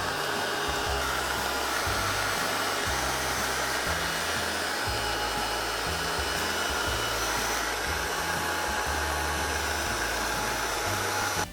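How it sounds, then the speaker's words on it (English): A heat gun runs continuously over embossing powder on a mixed media Christmas tag, a steady loud blowing whir that holds for the whole stretch with slight shifts in its low hum as it moves. "We don't need to heat gun everything as we go."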